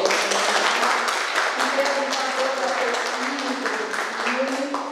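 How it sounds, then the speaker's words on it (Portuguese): An audience at a circus film screening applauds for a guest, steady crowd clapping throughout while a voice speaks over it. "palmas para o André"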